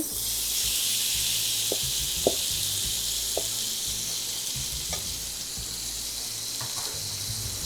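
Loud, steady sizzling of chicken pieces frying in a hot pan, with a few soft clicks and scrapes of stirring.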